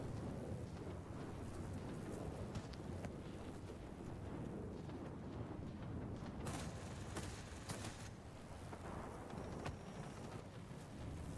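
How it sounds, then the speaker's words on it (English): A steady thunderstorm in the World of Warplanes flight game, with dense rain hiss and low rumbling thunder running throughout, loud and continuous with no talk over it. "There's a heavy storm here."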